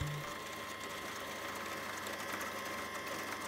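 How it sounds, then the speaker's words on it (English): A dusty home sewing machine runs continuously while stitching a jacket, a steady fast mechanical whir and rattle at constant loudness with no talk. "look at my crusty dusty sewing machine"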